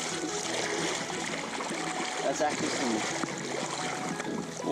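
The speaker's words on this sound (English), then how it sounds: "This is a good shower, mate." A campground shower in Wagga Wagga runs with a steady, splashing patter of falling water, heard up close under a voice talking over it.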